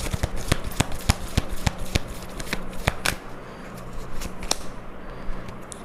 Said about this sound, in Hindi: अब मैं कार्ड्स निकालती हूँ